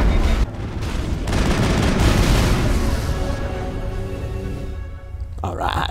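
Weapon fire in Mass Effect, a dense run of booming shots and blasts that fills most of the stretch loudly, tapering near the end, with a voice talking over it.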